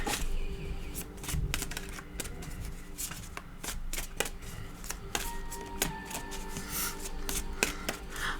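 Tarot cards being shuffled and drawn close up, quick crisp riffling flutters and soft slaps in irregular bursts, fairly faint and with no talking.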